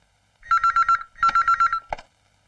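A telephone rings twice in quick electronic trills, each burst roughly half a second, loud and close, followed by a brief cut-off tone and then quiet.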